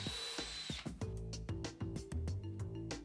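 A power drill boring holes for anti-theft pins in a door, heard in close, repeated short bursts of whirring with sharp stops and clicks between them, no talking.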